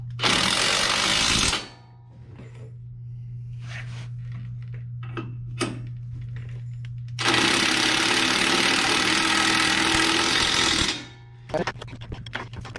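Bolts on a truck being lifted are driven tight in two long, loud mechanical bursts from a power tool, separated by quieter clinks and shuffling, with a low engine-like hum underneath and someone talking between bursts.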